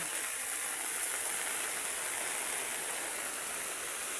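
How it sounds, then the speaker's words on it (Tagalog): Heavy rain pours down in a dense, unbroken hiss, loud and even throughout with no voices over it. "Yan, sobrang ulan."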